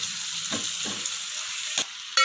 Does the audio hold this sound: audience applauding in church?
no